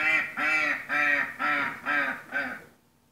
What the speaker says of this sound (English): What does a duck say?